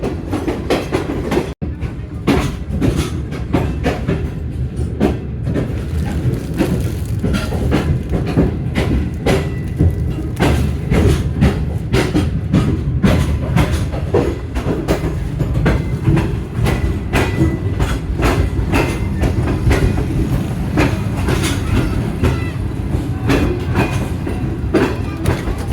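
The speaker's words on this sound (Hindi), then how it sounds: "हमारी ट्रेन हैदराबाद से बाहर जा रही है।" Green Line Express train rolling out of Hyderabad, a dense continuous rumble with steady clickety-clack of wheels over rail joints, heard loud from inside the carriage.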